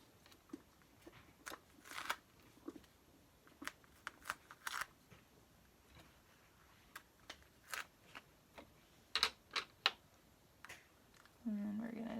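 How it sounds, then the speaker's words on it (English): Tape peels away from a Pooh Bear 5x7 craft design in a run of scattered crackly, tearing bursts at close range, and a steady low hum comes in near the end. "Let's go ahead and pull the tape off."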